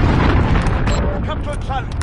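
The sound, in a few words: cruise missile explosion in video game Call of Duty Modern Warfare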